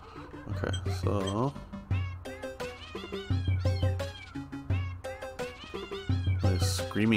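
Cartoonish cats meowing and caterwauling in The Legend of Zelda: Link's Awakening on Switch, a run of repeated pitched yowls over game music, loud and close with talk in between.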